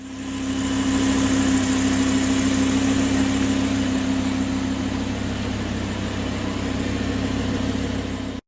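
A 2012 Audi R8 GT 5.2 FSI Quattro engine idles steadily with a deep, even hum and low rumble, close and continuous, then cuts off abruptly at the end, with no talk.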